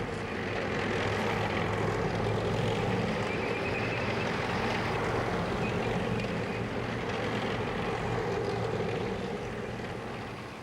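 American military aircraft over a Vietnam War battlefield, a steady loud propeller-engine drone that holds for the whole stretch and fades slightly at the end.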